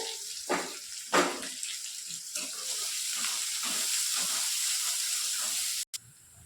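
Onions fry in a pan, giving a steady, bright sizzling hiss close by. A couple of soft clatters sound near the start, and the sizzle holds evenly before cutting off briefly near the end.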